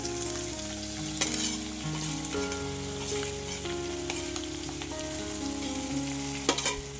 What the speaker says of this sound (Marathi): आता आपण त्यामध्ये बारीक चिरलेला कांदा घालून घेऊया